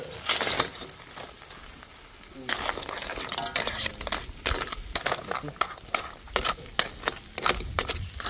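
Mud crab goes into a hot sizzling pan, followed by loud bursts of stirring and scraping with sharp utensil clinks against the metal, near and uneven.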